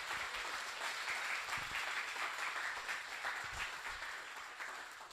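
An audience at an event honoring women in surfing claps steadily, a dense, even round of applause from start to finish with no talk over it.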